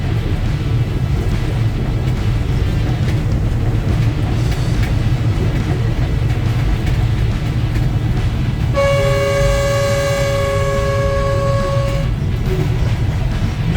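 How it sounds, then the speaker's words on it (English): A train runs from Phnom Penh into Sihanoukville, Cambodia, heard from the driver's cab: a steady rumble of rolling wheels throughout, then a loud horn blast lasting about three seconds near the end. No voices. "Entering Sihanoukville from Phnom Penh on the train."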